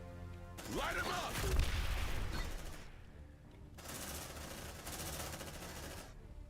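Suppressive gunfire in Aliens: Dark Descent, loud sustained automatic bursts with heavy booms, broken by a short lull before another long volley, under game voices.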